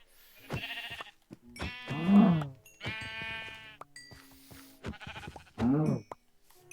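Minecraft sheep bleat in the game: several short, wavering baas come one after another, with small pauses and no talking between them.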